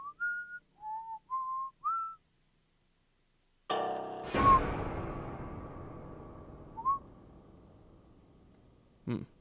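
Someone whistles a short melody of four or five clear notes in a video game, followed by a sharp crash that rings and decays, then a lone whistled note.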